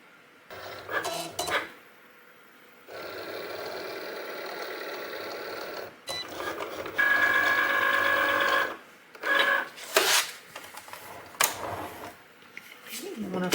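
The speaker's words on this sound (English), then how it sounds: "My dial is set to cardstock on my Cricut Explorer 2." A Cricut Explorer 2 cutting machine set for cardstock loads the sheet with brief clattering whirs, then runs in long motorized stretches of buzzing and whirring carriage movement, close by and fairly loud, with short pauses between passes.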